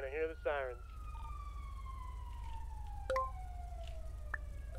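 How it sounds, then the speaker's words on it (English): A police car siren in a GTA roleplay video game opens with a short yelp, then settles into a long, slowly falling wail at moderate distance, with a few sharp clicks over a low background hum. "You're gonna hear the sirens."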